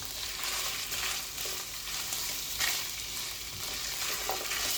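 Sliced onion and whole dried red chillies being stir-fried for dragon chicken, continuous loud sizzling with repeated scrapes and tosses of a utensil against the pan.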